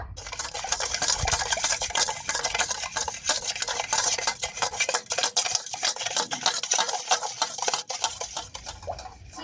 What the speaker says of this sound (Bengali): এক কাপ চিনি এই চিনিটাকে আমি ভালো করে মিশিয়ে নেব